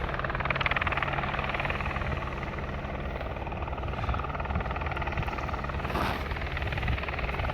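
A helicopter flies low overhead near Cala Varques, its loud, steady rotor thump and engine roar filling the whole stretch with little change in strength.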